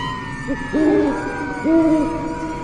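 An owl hooting as a spooky sound effect: two drawn-out, wavering hoots a second apart, loud and close, over a low background drone.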